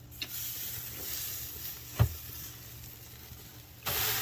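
Tri-tip sears on expanded metal inside a smoker, giving a steady soft sizzle and hiss with a single sharp pop near the middle and a louder hissing surge at the end, close by, no talking.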